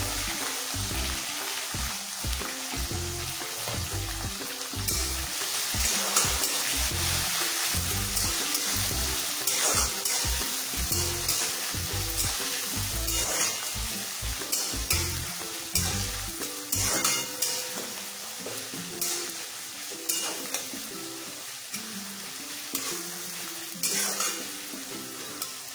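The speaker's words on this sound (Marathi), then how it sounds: "कांदा चांगला भाजून झालाय, त्याच्यात टोमॅटो घालून घेऊया आणि आलं लसणाची पेस्ट घालूया" Onion, tomato and ginger garlic paste fry in a pan for prawn biryani, with a steady sizzle and repeated scraping clanks of a spoon stirring against the metal pot, close up and with no talking.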